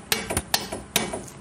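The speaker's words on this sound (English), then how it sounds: "I'm just going to tap it in," A Subaru EA82 steering knuckle is tapped into its bore with a hammer, giving four or five sharp metallic knocks at irregular intervals. The blows are close and crisp against quiet.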